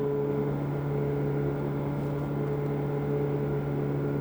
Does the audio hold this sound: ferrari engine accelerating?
yes